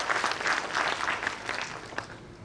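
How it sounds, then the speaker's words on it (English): Applause at a one-day national seminar on antimicrobial resistance, a brief, moderately faint round of clapping from an audience with steady density throughout. "Big round of applause for the team of"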